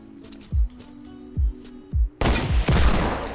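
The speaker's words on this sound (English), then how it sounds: "Oh my god, it sniped!" Sniper rifle shots in the video game Fortnite: three sharp, separate cracks about half a second apart with ringing tails, followed by a burst of heavier, denser gunfire.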